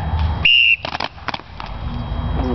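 A sharp, loud whistle blast lasting about a quarter second during a paintball game, followed by scattered bursts of shouting and commotion.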